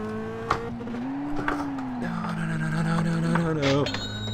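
A race car engine in the iRacing sim game holds a tonal drone that rises and falls with revs and gear changes, with brief tire noise and thumps underneath, close and steady.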